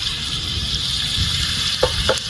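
Red snapper (chempalli) fish frying in hot oil, a steady, dense sizzle with crackling throughout and a couple of brief louder pops near the end.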